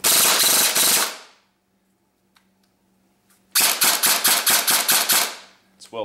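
Lonex Titan A2 airsoft rifle firing two rapid full-auto bursts of sharp mechanical cracks, loud and close, separated by a quiet pause with faint motor hum and clicks.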